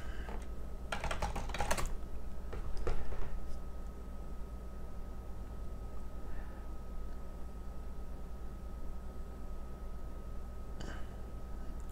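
Someone types a password on a computer keyboard during a Raspberry Pi software install, a quick burst of close key clicks early, then scattered single taps over a steady background hum.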